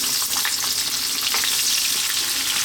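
Onions sizzle in oil over lively high heat for a curry, a steady, loud, close frying hiss with faint crackles and stirring noises and no talking.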